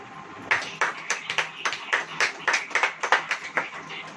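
Church congregation clapping in a steady, even rhythm, about a dozen sharp claps over four seconds, fairly close and alone.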